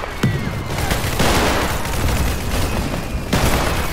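Gunfire in the Roblox video game Centaura bursts out in sharp cracks and dense volleys at close range, loud over a busy, noisy background with no talking.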